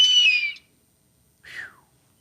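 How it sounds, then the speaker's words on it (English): A seagull call played as a guess-the-sound game clip: two separate cries, the first a longer bright wail and the second a brief descending squawk after a short silence, clear and close with no talk over them. "Oh, it's a seagull."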